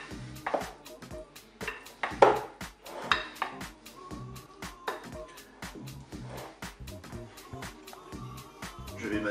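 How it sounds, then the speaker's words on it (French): Salad tossed gently with utensils in a bowl, giving a steady run of clinking, scraping and knocking strikes against the bowl, close and moderately loud, with no talking. "Alors, on mélange"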